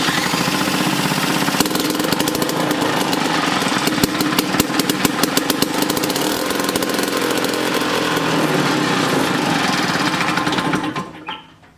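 A 1958 Tecumseh lawn mower engine pulled from a barn fires up and runs loud and close, with a rapid sputtering chug and uneven popping before it cuts out abruptly at the end.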